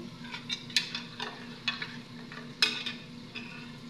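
Meat cooking in a pan for dinner, a soft sizzle with intermittent scraping and clinking of a spatula stirring, quiet and close, no talk.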